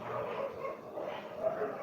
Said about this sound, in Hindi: 1 मिनट रुक जाइए, कुत्ते को भगा लेने दीजिए।